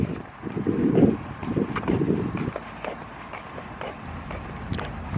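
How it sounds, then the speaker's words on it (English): Gusts of wind buffet an outdoor microphone, producing a low, uneven rumble that swells strongest early on and then settles into a steadier whoosh, with no voices. "I hope you guys can hear me because it's windy"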